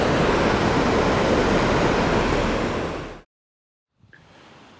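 Strong rapids at the disputed Vanhankaupunginkoski dam on a powerful river, a loud, steady broadband roar of rushing water that cuts off abruptly, then returns much quieter after a second of silence.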